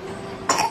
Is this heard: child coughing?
yes